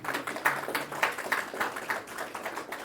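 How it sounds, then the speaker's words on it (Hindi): An audience at a spiritual discourse in Deoghar claps steadily in a regular rhythm, the beats moderately loud and somewhat distant, with no talking over them. "ताली तो बजाओ।"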